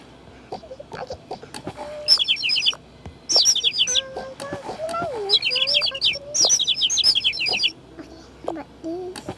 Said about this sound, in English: We have a cute bird.